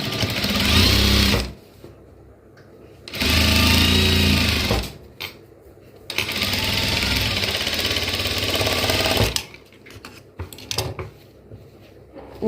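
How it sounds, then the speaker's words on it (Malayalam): A sewing machine stitching a crop top, running in three loud whirring bursts separated by pauses, followed by softer handling noises near the end. "ഇതിൻ്റെ ഫ്രണ്ട് സൈഡ് ഞാനൊന്ന് മടക്കി ഇതുപോലെ താഴോട്ട് സ്റ്റിച്ച് ചെയ്ത് കൊടുക്കും."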